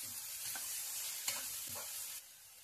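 Tomatoes being stirred into a crab curry frying in a pan: a steady sizzle with soft scraping stir strokes every half second or so, close and moderately quiet, no voices.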